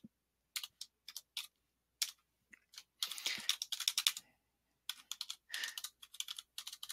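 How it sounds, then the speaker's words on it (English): Keystrokes on a computer keyboard while editing text in VIM, sparse single taps at first, then quicker clustered bursts of clicking with brief pauses, close and crisp in a quiet room. "See if I can type."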